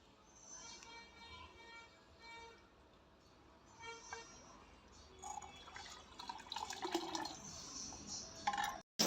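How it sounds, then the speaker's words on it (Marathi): Faint bubbling and gurgling of dal curry simmering on a wood-fired stove, with soft drips and splutters that grow busier and louder toward the end. "अशी आमटी उकळलेली खळखळ जाळ पण छान लागलेला चुलीला"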